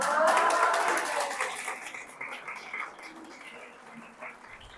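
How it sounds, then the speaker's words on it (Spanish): An audience at a retreat gathering claps for the angels entering, a moderate round of applause that starts fuller and gradually thins out over a few seconds. "Un aplauso a los ángeles."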